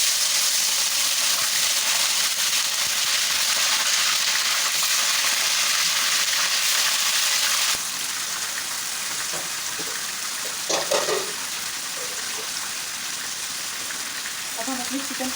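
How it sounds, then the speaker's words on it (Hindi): Chicken pieces frying in about two cups of oil in a kadhai, a steady broadband sizzle that runs loud for the first half, then settles into a quieter bubbling with a few sharper crackles near the end. "अब हम अपने चिकन को तलते हैं।"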